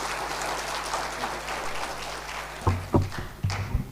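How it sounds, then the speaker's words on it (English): A crowd at the Pan African Youth Convention at the Kenya School of Government applauds the Director General. A diffuse wash of clapping gives way to a few louder, isolated thumping claps near the end. "Give him a round of applause."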